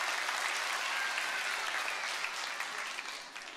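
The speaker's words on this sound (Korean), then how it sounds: "우리 큰 박수로 다시 한번 격려해 주세요." A church congregation applauding during a Sunday worship service, sustained clapping from a crowd that stays strong and even, then gradually tapers off near the end.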